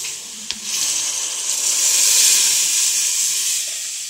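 Onions fry in a pan with a steady, close sizzle and hiss that swells slightly and holds throughout, with a single faint tap near the start and no talking.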